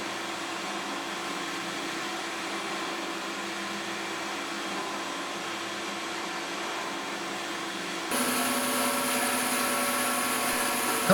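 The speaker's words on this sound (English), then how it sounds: "With the bandsaw," A bandsaw runs steadily while rounding the corners of a black walnut stool top, a constant close motor hum and blade whir that grows louder and harsher near the end as the wood is cut.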